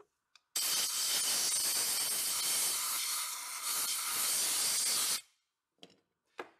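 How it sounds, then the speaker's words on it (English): Compressed air gun blasting a sustained loud hiss into a cavity of a neglected 1966 Ford Galaxie for about five seconds, followed by a few short bursts. "Let's see what we can get out of it with an air gun."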